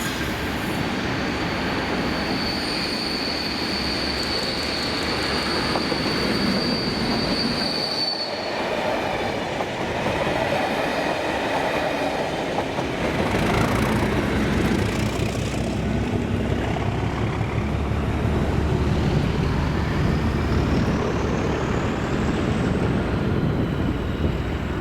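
Freight train hauled by locomotives 37116 and 219 rumbling past on a Scottish line, a long steady roar of engines and wagons with high wheel squeal early on and the noise swelling as it passes close.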